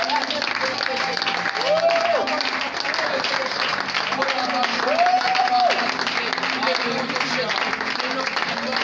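A church congregation applauds the name of Jesus with sustained, dense clapping that fills the room, while a preacher's voice carries over the applause.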